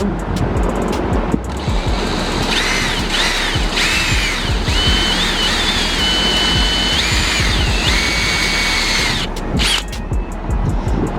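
A unibit step drill bores a hole while a catch can is made for a car. Several whining, squealing cuts rise and fall in short bursts over a noisy, busy background.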